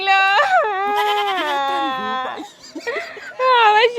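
A pet goat bleats in two long, wavering, nasal calls, close and loud, with a short pause and scattered softer sounds between them.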